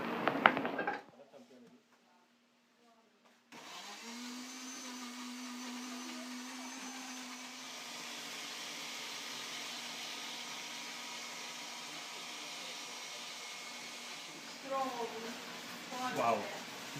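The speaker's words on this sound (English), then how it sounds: "And we're now going to the blender." A kitchen blender whirs steadily as it purées moqueca de camarão sauce of tomato and seasonings in a Bahian cooking lesson in Salvador, Brazil. The motor hum runs for about ten seconds after a brief quiet, and voices come in near the end.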